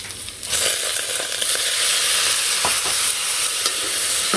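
Spices and green chili frying in a pan, a loud continuous sizzle close by, punctuated by sharp scraping strokes of a spatula stirring the mixture; no speech.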